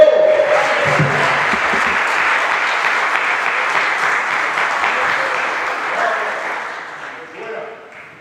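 Congregation applauding in church at a Sunday communion service: loud, dense, sustained clapping that fills the whole stretch and eases off near the end.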